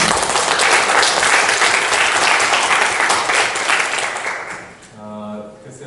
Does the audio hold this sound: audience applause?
yes